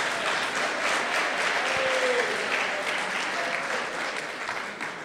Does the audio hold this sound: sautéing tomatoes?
no